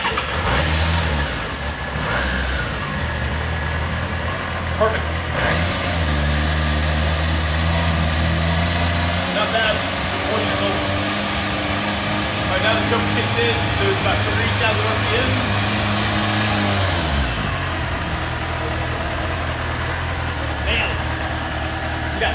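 Yamaha YZF750R motorcycle cold starting on choke, its engine catching and idling loudly, then revving up and settling back steady, close to the microphone with people talking over it.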